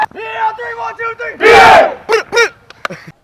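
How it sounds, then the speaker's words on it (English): The Los Gatos Vikings softball team shouts a group cheer in unison. A loud, close chorus of young voices chants in short rhythmic bursts and builds to a big collective yell before ending. "Guys, take us out with a cheer"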